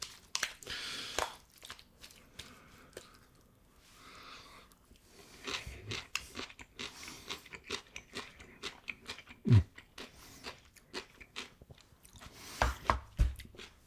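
Crunchy bites and chewing of spicy marinated cucumbers, close and fairly quiet, with irregular crisp crunches spread through the clip and a couple of louder bites near the end, without any talking.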